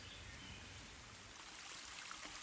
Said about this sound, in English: Cripple Creek is still flowing well despite the drought.